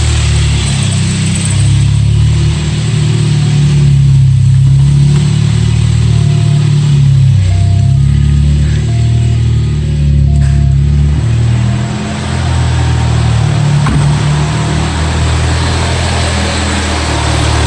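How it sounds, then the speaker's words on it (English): A 1981 VW Scirocco S engine with CIS Lambda injection runs loud and steady nearby with the AC compressor engaged, a continuous low drone with slight shifts in pitch and no voices. "I'll turn the compressor on and we'll take some readings."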